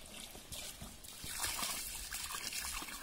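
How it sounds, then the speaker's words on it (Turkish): Water tipped from a bucket onto tomatoes in a crate for washing, a continuous splashing, trickling pour that swells partway through, fairly faint and without speech. "Kovamızı suyu boşaltıyoruz suya."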